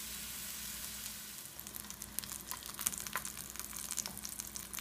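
Steak sizzles steadily in a hot pan, a constant crackling hiss with scattered sharp pops, close and moderately loud.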